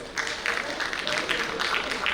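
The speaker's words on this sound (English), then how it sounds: "Could we have a round of applause, please?" An audience claps at a TiECON 2025 conference session, dense steady applause that starts abruptly and continues throughout.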